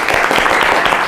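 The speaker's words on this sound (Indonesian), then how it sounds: "Tepuk tangan semua." Classroom applause, a short dense burst of many hands clapping close and loud.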